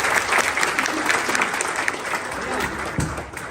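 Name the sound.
audience clapping for a little girl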